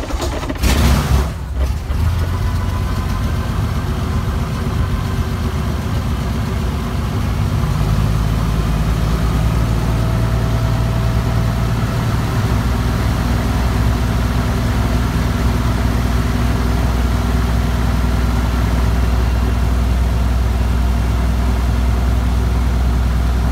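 A UL520iS aircraft engine on a break-in run at about ten percent throttle, starting with a few sharp cranking bursts then settling into a loud, steady low rumbling idle that continues throughout.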